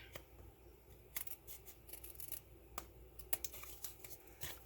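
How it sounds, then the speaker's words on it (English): A string of crisp, quiet scissor snips trimming the edges of a handmade pleated fun-fold card, short irregular cuts with small pauses between them, close and alone. "So we'll just get my scissors here, and we'll just trim the edges a tiny bit."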